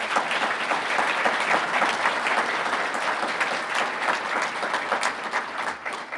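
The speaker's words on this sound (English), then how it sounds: "Let's give them a round of applause, please." Sustained audience applause at a city State of the City address honoring the hosting sponsors, dense and steady clapping from a large room throughout, with no talk over it.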